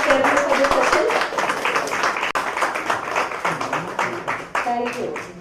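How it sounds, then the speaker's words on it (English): Applause from an audience at a government workshop session, loud and continuous with individual claps distinct, and some voices mixed in beneath it. "Please give a big round of applause to our chairman for this session"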